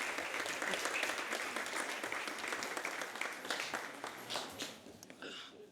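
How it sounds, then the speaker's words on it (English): Audience clapping at an African charity fundraising event, a steady wash of many hands throughout, fairly even and moderately distant, thinning slightly near the end. "Give a round of applause to Dr."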